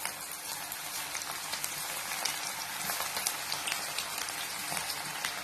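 Small pinches of cabbage pakoda batter fry in hot oil over a high flame, a steady close sizzle with scattered crackles and pops throughout.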